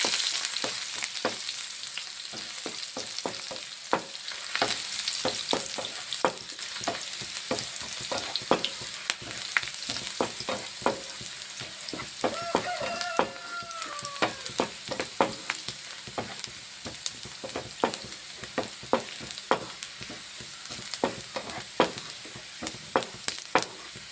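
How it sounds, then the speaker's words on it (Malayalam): Sardine curry base with chopped ginger stirred in a pan, a steady sizzle broken by repeated scraping strokes of a spoon, close and continuous with no voices. "നമുക്കിനി നല്ലപോലെ ഒന്ന് ഇളക്കാം"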